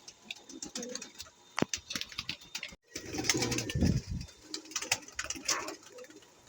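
Pigeons cooing at a long line feeder in a fancier's loft, several close, repeated low throaty coos with rustling, scattered ticks and brief chirps between them.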